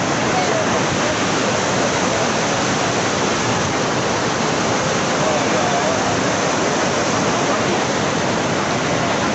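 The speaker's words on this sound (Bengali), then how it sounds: "গঙ্গা নদীর স্রোতটা দেখলে বুঝতে পারবেন কীরকম তার রূপ" The Ganges at Gangotri rushes in a fast mountain current, a loud, unbroken roar of turbulent water that fills the whole scene from start to finish.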